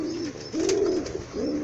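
Pigeons in a loft with newly hatched chicks and eggs give low, throaty coos in repeated swelling phrases, close and steady, with no voices.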